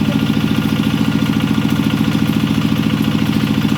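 Manual well drilling with iron pipe at about 30 meters depth, driven by a steady engine that chugs in a fast, even rhythm, loud and close throughout with no pauses.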